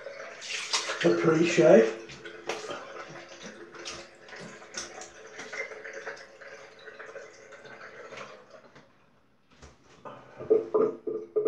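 Cold tap water running into a sink during a straight razor shave, a splashing flow near the start and again at the end, with someone talking in between.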